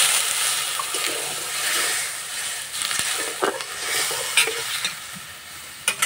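Water poured into a pan of pasta seasoned with Maggi masala, then stirred, giving a steady close hiss and sizzle with scraping stir strokes throughout.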